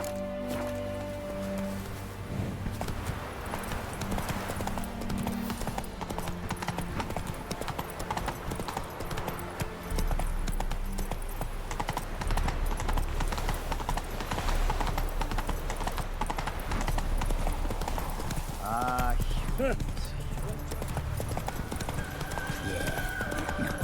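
Roach, Geralt's horse in The Witcher 3, trots and gallops with continuous rhythmic clip-clopping hooves and an occasional whinny, layered over game music and ambient sounds.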